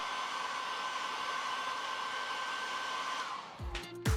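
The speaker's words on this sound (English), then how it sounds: "using a hairdryer, hit the rear case directly over the battery" A hair dryer blows steadily and close, heating the rear case of an iPhone XS Max over the battery, with a continuous airy whoosh and hum that cuts off near the end with a few handling knocks.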